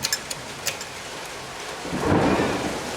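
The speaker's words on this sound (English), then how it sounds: "Now it's raining hard." Heavy rain pours steadily, swelling into a louder rushing downpour near the end, with a few faint patters at the start.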